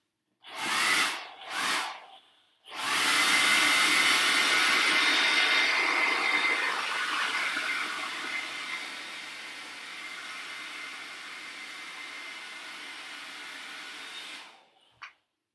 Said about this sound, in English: take a blow dryer and heat up the clay a little bit